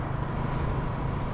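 A 1992 Suzuki VX 800 motorcycle on the move: a steady low engine drone mixed with buffeting wind noise, continuous and close throughout the brief stretch.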